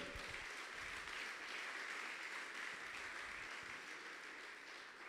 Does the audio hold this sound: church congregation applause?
yes